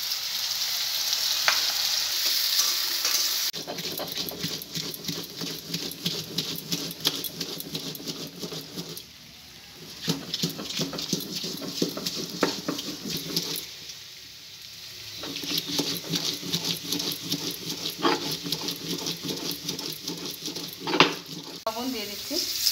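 Potatoes fry in hot oil in a pan with a steady sizzling crackle, broken by bursts of scraping as they are stirred, with a couple of brief quieter pauses.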